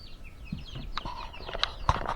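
Faint, scattered clucks and soft squawks from a few chickens, heard at a distance among quiet outdoor background noise.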